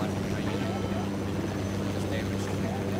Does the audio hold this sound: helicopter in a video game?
yes